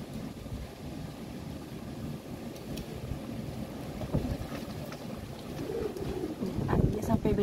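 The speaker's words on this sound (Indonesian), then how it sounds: "dan ini anginnya sangat kencang banget" Strong storm wind roars and buffets steadily in Hong Kong, with low rumbling gusts that swell louder toward the end.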